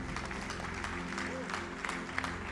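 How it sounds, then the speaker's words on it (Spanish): Steady applause from a church congregation fills the room, dense and continuous, with scattered louder claps standing out. "De ese aplauso, Jesús."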